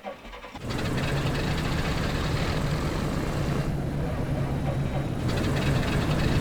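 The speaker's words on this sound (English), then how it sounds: "we're going to go ahead and start the port engine first" The port piston engine of a Britten-Norman BN2 Islander in Microsoft Flight Simulator 2020 starts from cold after a brief starter whir, then settles into a steady, loud rumbling idle that holds through to the end.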